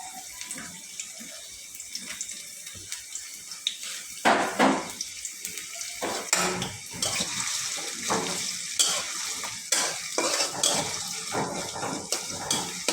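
Chopped onions hit a hot pan for a kachki fish dish, giving a loud, steady rushing sizzle with scraping bursts as they are stirred, alone without voices.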